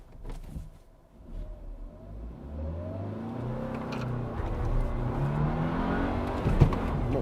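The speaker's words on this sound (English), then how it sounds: "Much better launch, using all the revs." A single-cab Volkswagen Amarok pickup launches hard from a standstill, its engine climbing steadily through the revs in a loud, close, rising drone with no talk.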